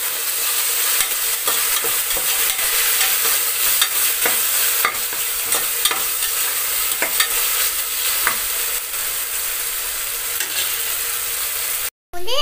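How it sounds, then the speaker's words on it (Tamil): Onions, tomatoes and ginger garlic paste sizzle steadily in a pan, loud and close, with repeated scraping clicks of a spoon stirring at a regular pace, then a brief cut near the end. "உங்களுக்கு அந்த இது கேட்குதுங்களா, அந்த ஒரு மாதிரி ஃப்ரை ஆகிற ஒரு சவுண்டு?"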